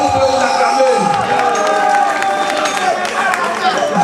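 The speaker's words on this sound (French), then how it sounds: "Est-ce que vous pouvez vous acclamer?" A large festival crowd in Cocody cheers and shouts loudly and continuously, with whoops and applause mixed into a dense, close roar that holds steady throughout.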